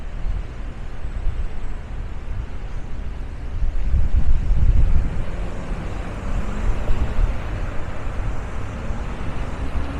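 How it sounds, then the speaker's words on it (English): Steady broadband wind rumbling and buffeting a microphone outdoors, with a stronger gust swelling in the middle before easing back to a constant roar. "Pretty windy day today too."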